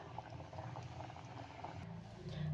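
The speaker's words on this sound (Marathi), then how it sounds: "तर आपली डाळ शिजत आहे" Toor dal simmering in a pot for Andhra-style tomato pappu, a soft, steady bubbling and gurgling that stays faint and even throughout with no talking.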